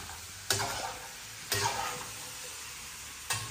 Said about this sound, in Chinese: 先把这个肉炒一下先